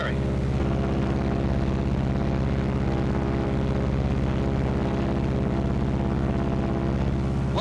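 Twin engines of a 1943 B-26 bomber drone steadily in a loud, constant propeller roar, the tone holding throughout with no clear change in pitch.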